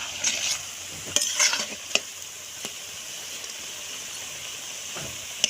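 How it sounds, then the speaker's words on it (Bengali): Raw potato pakoras frying in hot oil, a steady soft sizzle with a few sharper stirring clinks and scrapes scattered through, close and alone. "এই গরম গরম পকোড়া মা এখানে ভাজছে"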